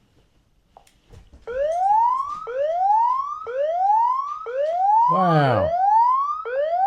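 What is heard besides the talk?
Zooz ZSE50 alarm siren sounding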